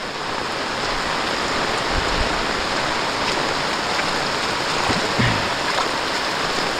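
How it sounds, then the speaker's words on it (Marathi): A flooded village river rushes in a steady, dense roar of water after heavy rain, loud and unbroken throughout, with no speech. "नदीला पूर आला आहे"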